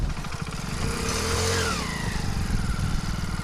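Motorcycle engine running steadily near army bunkers beside a canal in Punjab, a continuous close, loud drone with slight shifts in pitch and no talk.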